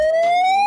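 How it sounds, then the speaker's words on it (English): A bullhorn siren wailing loud and close, a single rising electronic tone with strong harmonics sweeping steadily upward without pause. "perhaps with the sound of a siren"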